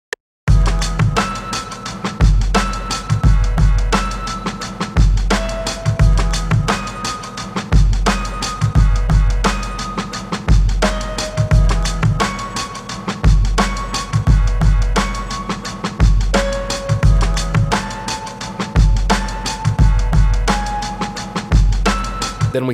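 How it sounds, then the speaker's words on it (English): Synth using the Frozen Rings preset plays sustained notes under a piano melody in a hip-hop production, with a steady, loud, regularly repeating beat throughout. "The next thing we're doing is adding a synth to back up the piano melody,"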